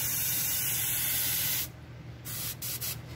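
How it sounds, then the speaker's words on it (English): A Border Model Black Flame airbrush sprays paint at full blast, giving a steady, close, loud airy hiss that cuts out briefly and then returns in short sputtering bursts. "If you want to do wide coating, full blast, it definitely can paint heavily."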